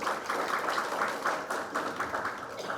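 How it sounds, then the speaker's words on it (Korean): Audience at a lecture on pharmaceutical distribution applauding a speaker, a steady dense patter of many hands clapping throughout, moderately loud and continuous from start to end. "성희진 상무님께 큰 박수 부탁드리겠습니다"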